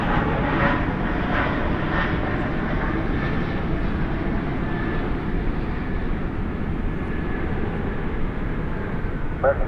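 An American airliner lands on runway 18 right at Dallas/Fort Worth at night, with a steady, broad jet engine roar that holds loud and even throughout, without obvious peaks.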